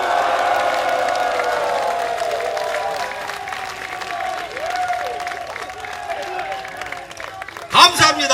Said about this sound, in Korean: 우리 당 김한길 대표에게 뜨거운 함성과 격려로 기백을 넣어주십시오, 여러분.